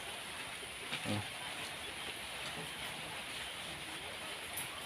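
Steady hiss of rain falling, heard from shelter inside a shed, fairly faint and constant, with a soft thump or knock partway through.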